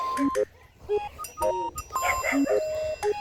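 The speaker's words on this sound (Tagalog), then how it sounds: "Ang daming aso kina Rhea." Several dogs bark at a house in a residential village, repeated short barks close by in quick bursts over a tonal background hum.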